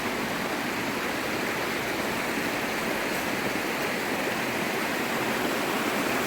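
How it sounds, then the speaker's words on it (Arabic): Steady, full rush of stream water pouring and splashing at a natural spot in Morocco, loud and continuous with no break or voices. "وبالخصوص الماء سمعوا الماء كي داير عرفتي الماء واعر"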